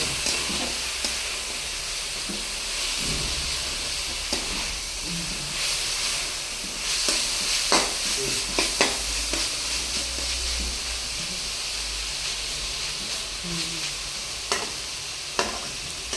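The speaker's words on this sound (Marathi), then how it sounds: "अशी परतायची चांगली, सगळं पाणी आटून जातं याच्यातलं" Dried fish sizzles and hisses steadily in a pan as it is stir-fried, while a utensil scrapes and stirs now and then, with occasional sharper clinks.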